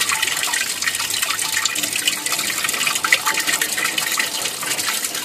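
Water rushes and gurgles steadily as it drains down through an aquaponics siphon pipe in Eilat, Israel, a continuous close splashing flow.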